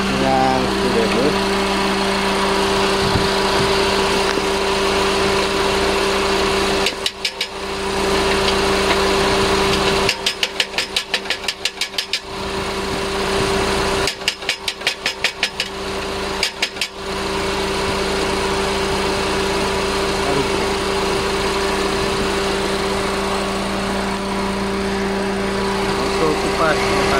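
A Honda Civic FD idles with a steady, continuous hum that has a strong tonal whine, while clicking bursts come and go and a person talks over it.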